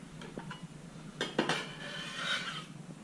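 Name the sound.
whisking egg and cheese mixture in a bowl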